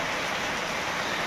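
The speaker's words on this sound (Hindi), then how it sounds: "3-4 दिन से लगातार बारिश ही हो रही है" Heavy rain pours steadily and loudly, a dense continuous hiss filling the whole moment with no voices over it.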